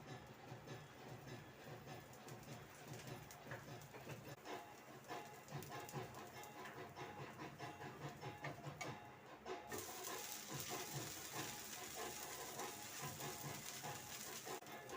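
Dosa batter frying in oil on a hot pan, a steady soft sizzle and crackle running throughout, faint and even, growing slightly brighter toward the end.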